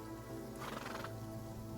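A horse gives one rising whinny in the middle, set against steady clip-clopping hooves. Both are fairly faint over a low background hum.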